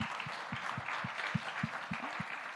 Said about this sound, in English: can we get a round of applause first?